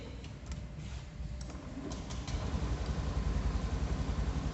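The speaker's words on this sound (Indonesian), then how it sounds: "Setelah itu kita akan menyalakan mesin." Engine of a Honda Beat Pop EFI motorcycle starts with a few ticks and then settles into a low, steady idle that grows slightly louder, heard close up.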